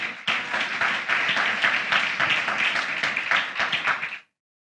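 A church congregation claps hands together in steady, energetic praise, the dense clapping holding for about four seconds before cutting off abruptly into silence.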